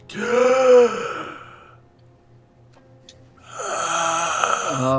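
A voice imitates a reanimated corpse drawing a heavy, rasping breath, a loud snore-like inhale followed by a quiet pause and then a second drawn-out breathy groan.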